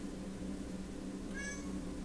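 Indoor cat gives a single short meow midway, fairly clear over a steady low hum, with no speech.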